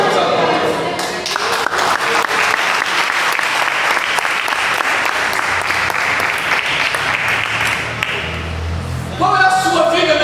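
A church congregation applauding together, dense sustained clapping from many hands in a large room for about nine seconds, then a voice begins speaking as the applause fades.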